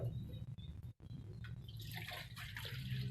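Water poured onto white sugar in a pan to make syrup for a Thai mung bean dessert: a continuous liquid pour and trickle, close and steady, with no talking.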